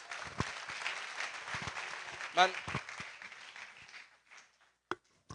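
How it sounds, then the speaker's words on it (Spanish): Applause from an audience for Dr. Alejandro Muñante after his talk on parents' right to educate their children, moderate clapping that thins and fades out over several seconds, with scattered sharp claps near the end. "Un fuerte aplauso al doctor Alejandro Muñante por su participación en esta tarde"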